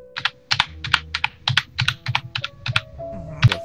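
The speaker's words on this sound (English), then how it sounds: "Now you're just smashing your keyboard." Someone bashes hard at a computer keyboard in rapid, uneven bursts of loud, clattering key strikes, close up and with no voices, ending in one heavy slam.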